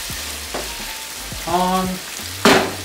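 Spiced potatoes for aloo karahi sizzle and fry in a pan with steady background crackle, punctuated by a few scraping stirs, while a voice speaks briefly over the cooking.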